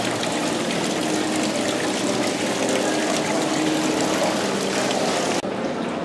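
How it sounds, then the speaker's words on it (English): Water feature in an indoor hotel lobby at Disney's Animal Kingdom Lodge trickling and splashing in a steady, close wash that stays even throughout, with no talk over it. "A really cool water feature."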